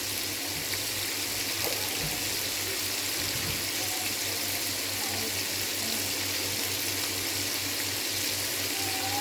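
Chicken yakhni stock poured into a cooking pot, a steady rushing liquid stream with a constant low hum underneath, continuous throughout, no talking.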